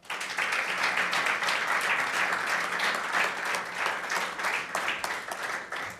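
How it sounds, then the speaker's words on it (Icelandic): An audience at a handball awards ceremony bursts into sustained, even applause that starts abruptly and holds at full strength, with many hands clapping together before it slowly thins. "Gefum þeim aftur gott klapp."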